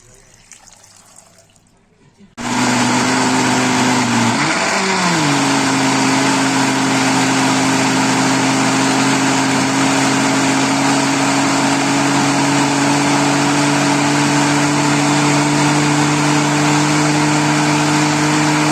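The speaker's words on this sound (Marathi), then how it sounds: "आता आपण ह्याच्यामध्ये जे आहे अर्धा ग्लास पाणी घालून चांगलं बारीक वाटून घेणार आहोत" A mixer grinder blending beetroot with half a glass of water starts after a short quiet stretch, then runs as a loud, steady motor whine with a churning roar. Its pitch dips briefly as the blades catch, then holds even.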